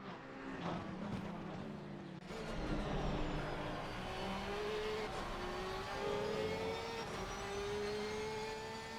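Several race cars in a sim racing game at Oulton Park, engines droning and rising together as a pack battles closely, steady and fairly loud with no one talking.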